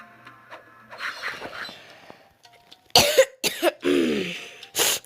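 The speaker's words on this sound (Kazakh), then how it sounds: "Кешіріңіздер, мен жөтеліп жатырмын." Several loud, close coughs burst out in a quick cluster, one running into a rasping throat-clearing, after softer clicks and rustles near a game being played.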